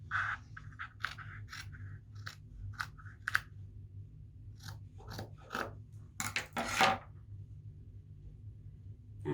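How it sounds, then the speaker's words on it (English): Scissors snip through a cotton T-shirt being cut into a scarf, giving a series of short, close, crisp cuts and rasps with quiet pauses between them and a louder burst of cutting near the end. "So I'm going to take this one and cut here."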